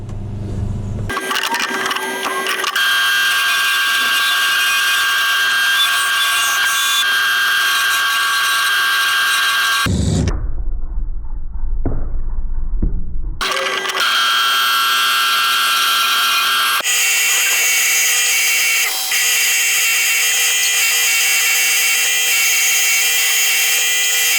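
A wooden lolly pot is sanded flat with powered machinery, giving a loud, continuous high whine that drops briefly to a low rumble partway through before resuming, with no speech.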